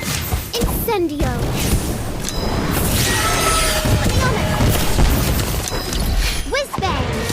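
Incendio fire spell in the video game Harry Potter: Magic Awakened, a continuous roaring, crackling whoosh of magical flame mixed with booming impacts and swirling chirps of other effects, with brief spoken voice cues over the busy battle sound.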